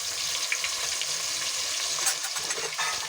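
Black masala paste of ground coconut, onion, coriander, ginger and garlic with curry leaves frying in a pan, a steady bright sizzle with soft stirring scrapes throughout, close and continuous.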